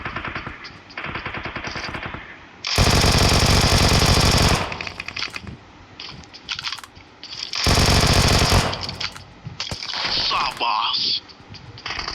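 A UMP submachine gun firing in the mobile game BGMI, with two long, loud sustained bursts of rapid automatic fire separated by quieter in-game ambience and scattered shots. Players chat over the gunfire.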